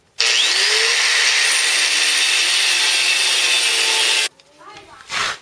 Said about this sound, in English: I'll first just kind of cut a triangle out of it and then cut the rest out.